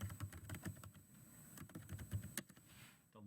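Someone types a place name on a computer keyboard, a quick, faint patter of key clicks in irregular bursts, heard close and alone without talking.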